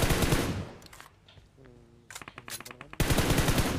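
Shotgun fire in a video game with a Power Armour mode: loud, dense bursts of blasts open the clip, a quieter gap with faint game tones follows, then a rapid series of shots and another heavy burst at the end.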